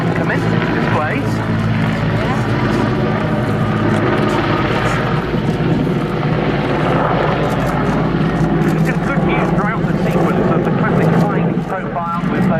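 A Mil Mi-35 Hind helicopter gunship pulls up and wings over during a flying display, its loud, steady engine and rotor roar running throughout with no breaks.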